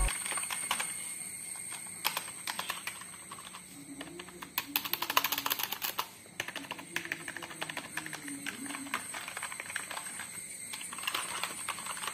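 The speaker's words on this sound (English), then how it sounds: "here is a small sound test of the keyboard whenever we type." Rapid clicking keystrokes come in irregular bursts from a nearby mechanical gaming keyboard, sharp clacks clustering and pausing, with a faint tone briefly underneath.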